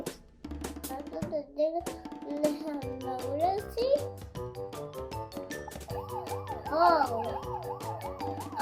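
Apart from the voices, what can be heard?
toy emergency vehicle sirens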